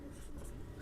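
Chalk or marker scratches briefly across a board during a Hindi-language maths lesson on solving linear equations in two variables, one short close stroke with a low room hum beneath.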